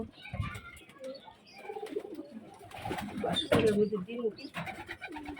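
Pigeons coo and murmur at close range, with soft bird calls and faint rustling around them; a voice is faintly present in the background.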